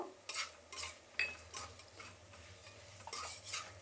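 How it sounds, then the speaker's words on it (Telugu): Curry leaves fry in a pan and get stirred, giving repeated short scraping and sizzling strokes, close and fairly quiet, in an irregular rhythm with brief pauses between them. "కరివేపాకు వేసినప్పుడు కొంచెం వేయించాలండి"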